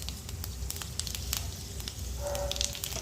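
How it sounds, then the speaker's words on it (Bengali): Panch phoron, the Bengali five-spice mix, sizzles in hot oil for a mixed vegetable fry, a steady close crackling hiss that swells slightly toward the end. "তার জন্য তেল বসিয়ে দিয়েছি, দেবো একটু পাঁচফোড়ন, অল্প সামান্য একদম"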